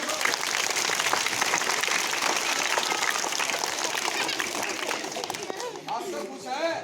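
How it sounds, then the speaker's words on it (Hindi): An audience at an outdoor street play claps loudly and continuously, a dense wash of applause mixed with crowd chatter and voices. "जोर से ताली बजो।"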